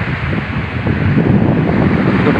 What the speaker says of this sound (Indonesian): Ini daerah pantai, teman-teman.